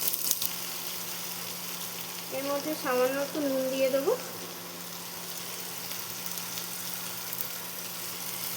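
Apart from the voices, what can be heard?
onion, capsicum and tomato frying in ghee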